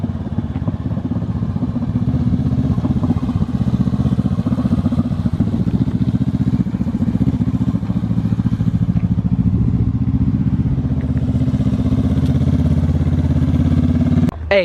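A 2020 Honda CBR500R motorcycle idling with its muffler removed, the engine running loud, close and steady with a raw, throbbing exhaust note for the whole stretch, with no talk.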